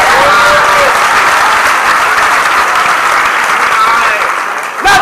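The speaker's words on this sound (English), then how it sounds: "Let's give them a hand." A student audience at a college comedy night applauds loudly and densely, the clapping steady and close for several seconds before dropping off at the end.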